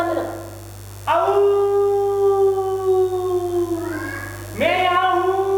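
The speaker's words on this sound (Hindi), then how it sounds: "घर वाला कुत्ता जो दिन में उस पर भौंक रहा था, रात में उनकी आवाज में आवाज लगाने लगा" A dog howls at night in long, drawn-out tones that slide slowly downward, with two loud rising howls separated by a fading stretch, close and clear over a low hum.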